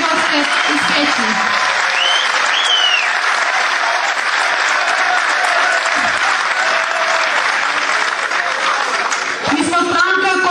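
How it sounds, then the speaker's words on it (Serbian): An audience at a political party gathering applauds to greet guests from Peć, a loud, dense and sustained clapping that fills the whole stretch, with a few faint voices and shouts mixed in. "sa jednim velikim aplauzom pozdravimo naše goste iz Peći"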